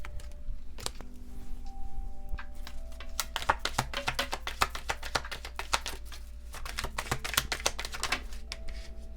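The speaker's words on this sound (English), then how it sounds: "I'm just gonna shuffle and take one from the top" Tarot cards being shuffled by hand during a pick-a-card reading, a dense run of quick crisp riffling clicks and flutters that builds through the middle, close and fairly quiet over a low steady background hum.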